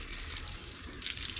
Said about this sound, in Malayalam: വെള്ളം കമ്മിയാണ് വരുന്നത്